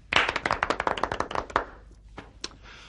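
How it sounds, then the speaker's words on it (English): A run of about fifteen quick, sharp hand claps, close and fairly loud, with a few scattered softer claps trailing off after. "clap your hands"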